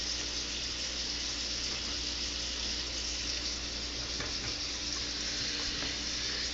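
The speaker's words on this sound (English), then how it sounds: "See, my potatoes are starting to boil" Continuous faint bubbling hiss of potatoes boiling in a pot of water on the stove, steady throughout with no voices.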